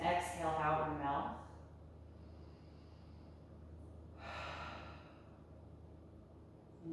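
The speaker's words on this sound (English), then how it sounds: "Take a deep breath in through your nose and exhale out your mouth." A deep breath in through the nose and out through the mouth during a home yoga session, heard as a close, soft, airy sniff-like inhale followed a few seconds later by a breathy exhale, over quiet room tone.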